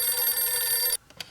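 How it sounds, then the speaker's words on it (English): A phone rings with a steady, bright electronic tone for about a second, then cuts off abruptly, leaving only faint clicks and near-silence. "my phone just went off"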